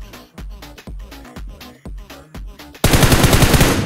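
Gunfire in BGMI (PUBG Mobile) Skyhigh Spectre mode: six spaced loud shots with thumping low ends, then a dense, continuous automatic spray that fills the last second, close and loud with no talk.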